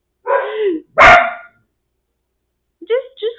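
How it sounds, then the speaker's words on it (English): Several dogs barking indoors in short bursts: a yelping bark, one loud sharp bark, then a pair of quick higher yips after a pause, all fairly close. "I don't know why my dogs keep barking, by the way."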